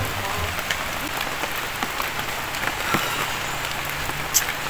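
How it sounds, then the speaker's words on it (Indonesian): Steady rain falls in a dense, even patter across the whole stretch, close and constant, with occasional sharper drops standing out. "Iya eta hujan teh."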